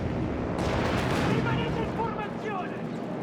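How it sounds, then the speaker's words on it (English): Smoke canisters fire in a Company of Heroes 3 North Africa battle, a continuous roar of booming launches and gunfire with shouted battlefield voices over it. "Fire smoke canisters to cover our advance."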